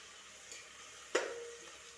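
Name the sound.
tomato added to onions and ginger frying in pan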